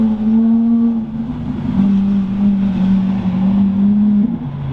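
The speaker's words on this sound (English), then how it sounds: "Listen to that exhaust." A straight-piped Lamborghini Aventador exhaust drones loud and close at a steady high pitch, as if cruising from inside the car. The tone shifts slightly as the revs change, and there is no talk over it.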